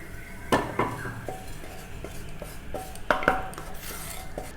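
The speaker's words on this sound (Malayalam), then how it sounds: "ഇനി ഫ്ലെയിം ഒന്ന് കുറച്ച് വെച്ചതിന് ശേഷം നമുക്കിത് പ്ലേറ്റിലേക്ക് മാറ്റി വയ്ക്കാം" Browned grated coconut scraped from a hot pan onto a plate: a metal spoon knocks and clinks against the pan in a few sharp bursts with softer scraping between, close and fairly loud, no talking.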